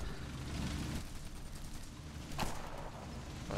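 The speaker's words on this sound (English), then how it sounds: "I'm being shot up by a friendly in typical fashion" Gunfire strikes a tank in a War Thunder battle, a dense rattle of impacts and shots with one sharp crack near the middle, playing steadily throughout without talk.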